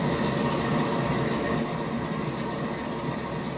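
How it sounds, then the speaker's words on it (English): A steady, rumbling 944 CW locomotive engine in the Train Simulator video game drones continuously with a broad mechanical roar and no pauses. "what we have here is a classic 944 CW locomotive."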